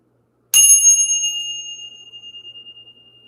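A single clear strike of a small bell, used to clear energy, rings out sharp and close after a moment of silence, then its bright tone slowly decays with a gentle wavering shimmer, no voices.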